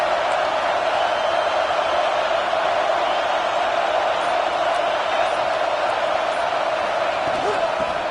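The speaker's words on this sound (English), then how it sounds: "This crowd going to try to make life miserable for these guys." Large stadium crowd at a Notre Dame vs Georgia college football game: a steady, dense roar of many voices that holds at an even loudness throughout without breaks.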